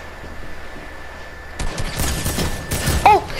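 Rapid gunfire bursts from a shooter video game, starting abruptly partway through after a quiet stretch and continuing in dense volleys to the end, with no talk over it.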